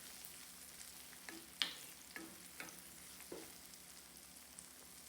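Shallots and garlic sautéing in a pan for a fenugreek curry, with a low steady sizzle broken by a few scattered stirring scrapes and clinks, faint and close, no talking.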